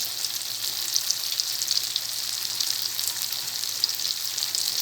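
Onion and garlic sauté in a favourite frying pan as chicken adobo gets started, giving an even, bright sizzle that holds steady and close with no voices.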